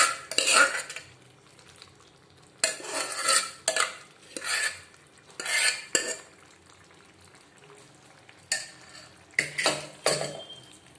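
A spoon stirs mashed boiled vegetables in a pan for pav bhaji, giving several loud bursts of scraping and clattering separated by quieter gaps over a faint background hum.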